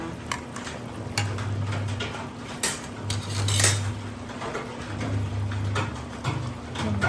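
Pork and bamboo shoot soup is stirred in a pot, a utensil scraping and clinking against the metal in loose repeated strokes over a steady low bubbling hum, close and moderately loud.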